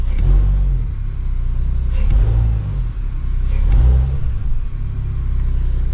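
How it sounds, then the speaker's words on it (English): A car engine that has not yet warmed up revs a few times in low, rumbling swells, rising and falling twice over a steady idle, loud and close, with no talking. "So I'm gonna just rev it a little just to see what happens."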